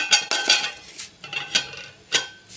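Metal curry cooking pot handled in a home kitchen, several sharp clanks and clinks in an irregular rhythm, close and fairly loud with no talking.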